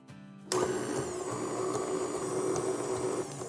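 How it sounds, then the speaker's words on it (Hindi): An electric kitchen machine kneads bread dough for rolls, starting abruptly after a short moment of quiet and then running as a steady, even motor whir with a slight hum until the end. "तो मैं जो है मशीन की हेल्प से मिक्स कर लूँगी"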